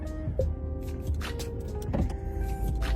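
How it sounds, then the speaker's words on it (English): A car drives along with a steady low engine and road hum inside the cabin, and a few short mechanical whirs and clicks come through it. "Alright, we're driving."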